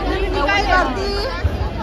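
A festive Diwali morning crowd in Thane city fills the air with dense, close chatter, many voices overlapping into a continuous babble.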